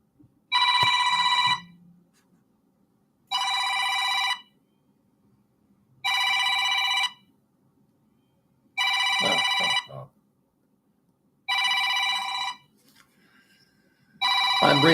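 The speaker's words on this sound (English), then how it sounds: "I just got a scam call" A phone ringing with an incoming scam call: six evenly spaced electronic ringtone bursts, each about a second long, with quiet gaps and faint background noise between.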